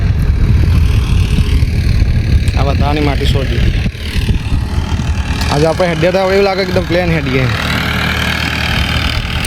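A tractor engine drones steadily while levelling a farm field with dumped soil, a low continuous rumble running beneath someone talking through most of the stretch.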